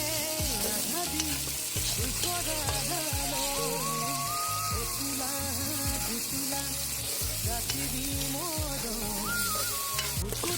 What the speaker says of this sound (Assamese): এতিয়া ইয়াত মই নৰসিংহ, মানিমুনি, ভেদাইলতাৰ পেষ্টখিনি দি কেনে আকৌ ধুনীয়াকৈ এবাৰ লৰাই দিম।